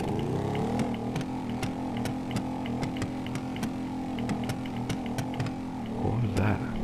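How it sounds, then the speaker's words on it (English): A motorcycle engine in Grand Theft Auto V drones and revs steadily, with sharp regular ticks over the engine tone throughout and no clear talk. "Get on this thing right here and just rev this thing up."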